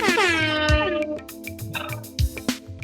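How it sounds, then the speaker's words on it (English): A blaring air horn sound effect sounds with a bending pitch, followed by a string of short, choppy blasts. "God, I love that air horn."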